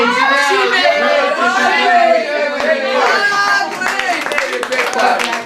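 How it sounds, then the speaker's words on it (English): At a small 50th birthday party, guests clap in scattered, uneven bursts while several people chatter and laugh over it nearby, the talk often louder than the hands. "Great clap."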